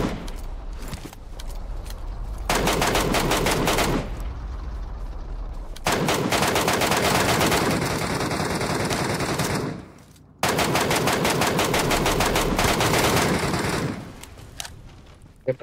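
Loud automatic gunfire from the Metro Royale shooter game rattles in three long, sustained bursts separated by brief pauses, the rapid shots blending into a dense roar.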